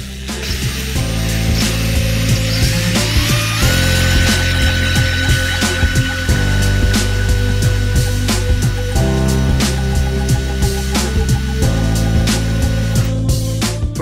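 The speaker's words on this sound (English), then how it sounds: "I'm going to put my drill on here and see if we can make any electricity" A drill at its 500 RPM maximum setting spins a failed 12 volt pump motor, making a loud, continuous mechanical whir with a rapid ratcheting clatter and shifting tone throughout.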